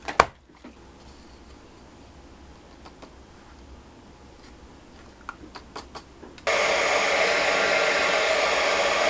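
Heat gun switching on and blowing a steady, loud whooshing hiss for clear heat embossing on a mini slimline card, after several seconds of quiet handling clicks.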